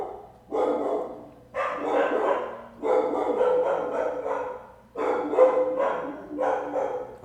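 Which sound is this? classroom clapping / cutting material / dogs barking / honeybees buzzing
dogs barking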